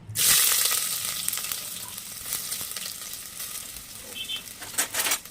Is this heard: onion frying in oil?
yes